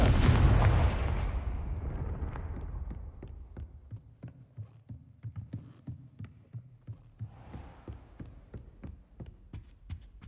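A Confringo blasting spell going off in the Hogwarts Legacy video game, opening with a loud booming burst that decays into a rumble, followed by a steady train of sharp crackling pops and thuds.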